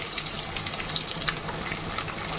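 Onion fries in hot oil with curry leaves and mustard seeds for a potato and pea curry, giving a short burst of even, hissing sizzle with faint crackles.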